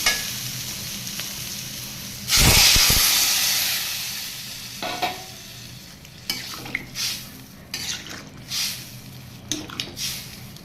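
A loud hiss bursts out as water hits a hot pan of vegetables and turmeric, then fades into softer sizzling with scattered clinks and stirring noises.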